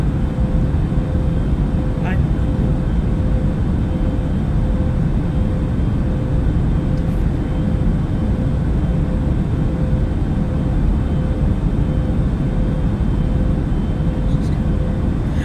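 Steady airplane cabin drone in flight, a loud, constant broadband roar with a low hum running unbroken throughout.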